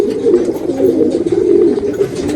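Pigeons cooing in a loft in Chiramangalam, a steady overlapping chorus of low throaty coos running without pause, close and fairly loud.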